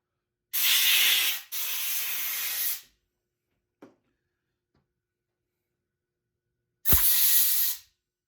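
Compressed air blasts gunk out of the parts of a clogged Harbor Freight Portland pressure washer foam cannon: two loud, close hissing bursts back to back, a tiny puff, then a pause and one more strong blast.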